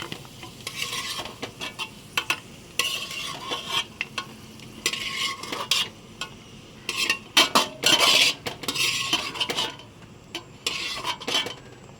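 Cashews and raisins frying in ghee in a pan for vermicelli payasam, a steady sizzle broken by repeated scraping and stirring strokes of a metal spoon, close and without talk.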